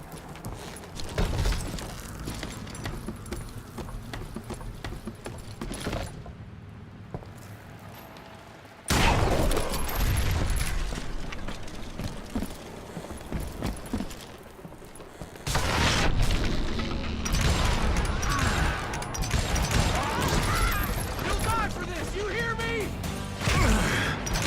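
Dynamite blasts in the Western shooter Call of Juarez: Gunslinger, with loud broadband booms at about 9 and 15 seconds, followed by rumbling crashes and game action.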